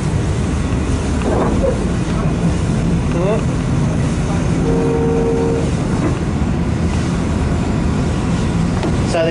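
A V/Line H set passenger train runs toward Bacchus Marsh, heard from on board as a loud, steady rumble of wheels and motion with brief squeals and tonal whines, and a voice speaking partway through.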